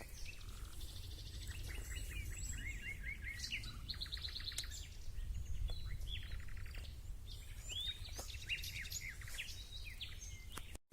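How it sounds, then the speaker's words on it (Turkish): Several birds sing and chirp continuously outdoors in a national park in spring, bright overlapping calls and trills at moderate distance over a faint low background hum. "Bozkırov Milli Parkı kuş seslerine dikkat edin. Çok güzel kuş sesleri."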